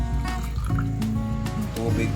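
Water pours and trickles into a container while making fruit cocktail pudding, a close, continuous liquid fill with faint splashes, and a voice talks over it.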